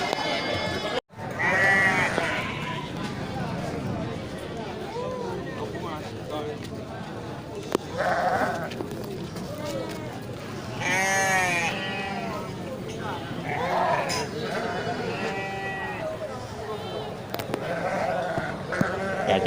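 Goats and sheep bleat repeatedly at an outdoor livestock market, several calls near and far rising above a crowd of talking people and steady background bustle.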